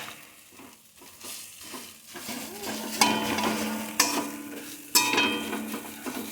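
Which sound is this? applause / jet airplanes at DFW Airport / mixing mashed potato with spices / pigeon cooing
mixing mashed potato with spices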